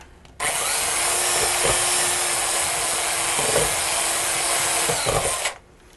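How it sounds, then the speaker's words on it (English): An electric drill used as a mixer whirs through chocolate cupcake batter in one loud, continuous run of about five seconds, starting and stopping abruptly, with no talking. "for being an electric drill, rather than a handheld mixer, I think this works fine"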